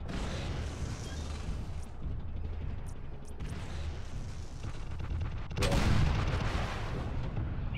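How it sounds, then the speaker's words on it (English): Missiles launch and detonate in the MechWarrior Living Legends video game on a desert map, a rumbling barrage of booms and gunfire rolling on, swelling into a louder blast near the end. "More missiles."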